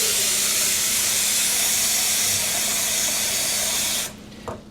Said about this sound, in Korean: 자, 그렇게 해서 일단은 물을 좀 받아 주시고요.